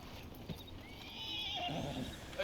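A horse in the Red Dead Redemption 2 video game lets out a rising whinny over a steady bed of game ambience, with a few hoof thumps near the start and end.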